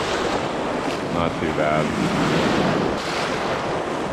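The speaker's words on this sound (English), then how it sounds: "We got some big boat waves coming in here." Big boat-wake waves wash in on a shore while fishing, a steady loud surf roar with wind buffeting the microphone throughout and someone speaking briefly over it.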